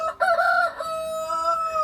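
A rooster crows loudly and close, one long drawn-out call with a sharp start that holds steady before trailing off.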